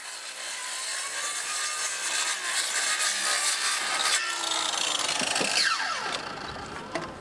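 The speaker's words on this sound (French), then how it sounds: "La vieille volige, constituée de planches de bois, est découpée à la scie circulaire et arrachée au pied de biche." A circular saw cuts through old wooden roof battens on a Parisian zinc-roofing site, a continuous loud whining rasp of blade in wood that runs several seconds, then dies down toward the end, with no speech.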